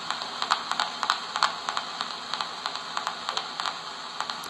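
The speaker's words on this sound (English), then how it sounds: "you will hear a static pulse on the AM radio" An AM radio hisses with static while a single AA 1.5 volt battery circuit is connected and disconnected, producing a run of sharp, irregular crackling pulses roughly every quarter second over the steady noise floor.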